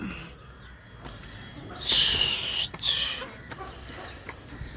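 Native country chickens, all black, clucking on a farm in a couple of short, fairly loud bursts over a quieter background of scattered farm noise.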